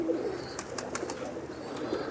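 Pigeons coo softly in a loft, a low murmuring call repeating over a faint background hiss, with no talking.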